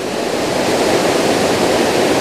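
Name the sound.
Eas Fors waterfall rushing water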